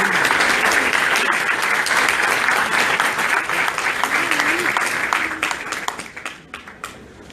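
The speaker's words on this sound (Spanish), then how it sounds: "Fuertes aplausos, por favor." Loud applause from the audience at a book presentation during a book fair in Lima, a dense sustained burst of clapping that gradually thins out and fades, with some voices underneath.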